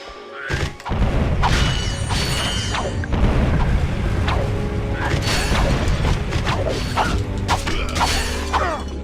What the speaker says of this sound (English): I'm just gonna use my goddamn wrench